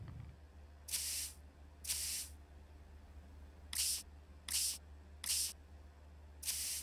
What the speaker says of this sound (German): nehmt ihr euch so eine Sprühflasche, sprüht da ein paar Mal auf euch drauf